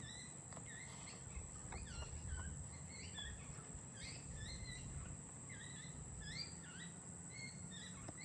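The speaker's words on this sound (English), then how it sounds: "I can hear a baby bird" A baby bird whistles outdoors in short, repeated high chirps scattered through the stretch, faint and somewhat distant over a constant insect drone and low background rumble.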